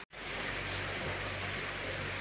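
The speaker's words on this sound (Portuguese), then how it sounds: "Caindo água com força" Heavy rain pours steadily in the municipality of Lagoa Nova in Paraíba, a dense, continuous hiss of water falling hard on surfaces, close and loud throughout after a brief silent start.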